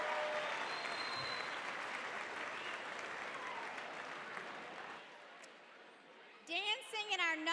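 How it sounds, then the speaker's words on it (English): Audience applause at a Spartanburg charity dance competition after perfect dance scores, a dense steady clapping from a large crowd that fades after about five seconds, then a host's voice rises near the end. "Let's give them another round of applause."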